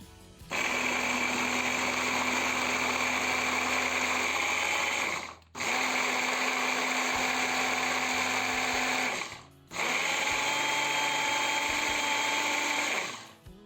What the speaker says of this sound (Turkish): Ben robotumu da açtım.